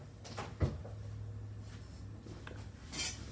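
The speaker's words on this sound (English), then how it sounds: "Benny, get out of the drawer" A cat climbs into a drawer, making a sharp wooden knock and soft rattling bumps at close range in a quiet room.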